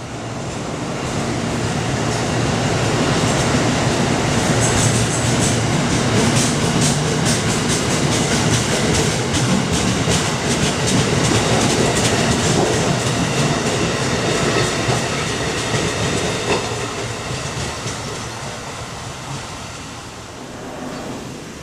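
A train rolls past on a rainy day, bound for Baltimore and DC, its steady rumble and clickety-clack of wheels on rail filling the scene loudly and continuously before easing slightly at the end.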